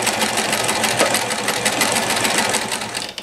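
A 1994 New Home Model 108 sewing machine stitching a zigzag, a steady rapid mechanical whirring and needle clatter that runs loud and continuous for the whole stretch before easing off at the very end.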